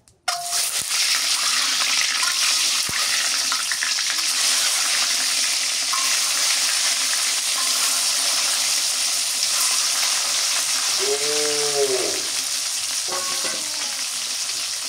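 Eggs fry in hot salted oil in a pan, giving a loud, continuous close sizzle that stays steady throughout, with a few faint clinks and a brief bubbling warble near the end, no voices.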